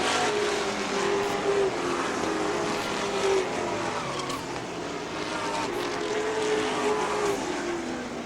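Race cars roar around a track during a lap-down battle late in the race, engines droning continuously with rising and falling pitch as cars pass, loud and steady throughout without any talking.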